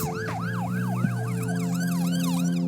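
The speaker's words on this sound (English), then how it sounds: "an emergency vehicle will probably switch off its siren as it follows you" An emergency vehicle siren wails in a rapid repeating up-down yelp, loud and steady over the hum of a nearby engine, with no talking.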